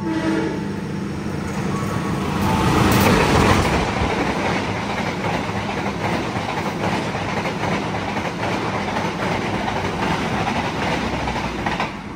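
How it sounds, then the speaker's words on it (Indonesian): Argo Lawu express passenger train running straight through a station platform on its way from Gambir to Solo Balapan, a loud continuous roar with rhythmic wheel clatter that swells and holds steady. "dari jalur 2 akan melintas langsung kereta api Argo Lawu dari Gambir tujuan ke Solo Balapan"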